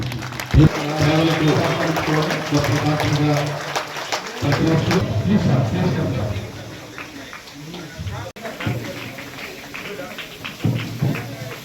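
Applause from an audience at a semi-Christmas celebration, a dense patter of clapping lasting most of the moment, dipping briefly before resuming, with a speaking voice over parts of it.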